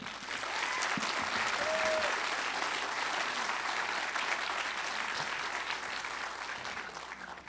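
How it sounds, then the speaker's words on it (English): A crowd at a signing day event gives a long round of applause for employers and new teammates, loud sustained clapping that swells early, then carries on evenly with faint voices underneath. "Please join me in a final round of applause for all of our employers and new teammates."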